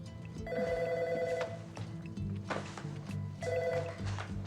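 An office telephone rings in two clear, close bursts with a pause between, soft thuds and movement in the background.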